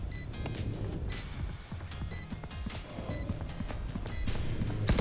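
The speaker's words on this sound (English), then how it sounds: "Hear those footsteps?" Footsteps in the tactical shooter Valorant, a steady run of regular thudding steps with light clicky accents, moderately loud over continuous game ambience.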